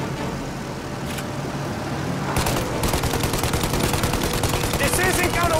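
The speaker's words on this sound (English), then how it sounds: "Shoot out the engines!" Rapid gunfire bursts in a Mafia Definitive Edition shootout aimed at a plane's engines, dense crackling volleys starting midway and continuing loud to the end over a low rumble.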